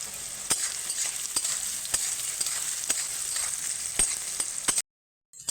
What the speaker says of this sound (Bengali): এবার আলুগুলো আমি ভেজে নিচ্ছি বেশ একটু লাল লাল করে ভেজে নেব